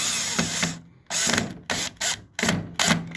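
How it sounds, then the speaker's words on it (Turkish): A screw is driven into a PVC window lock in short ratcheting bursts, about five close, loud turns with brief pauses between. "Bu şekilde vidaladık."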